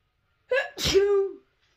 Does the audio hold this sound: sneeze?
yes